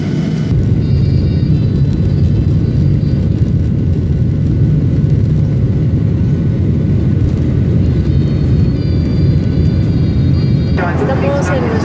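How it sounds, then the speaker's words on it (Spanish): Cabin of a Jet Airways Boeing 737-800 in flight from New Delhi to Varanasi, with a loud, constant low engine and air roar throughout and a brief chime or tone near the end. "Estamos en nuestro vuelo que nos va a llevar a Varanasi en Jet Airways."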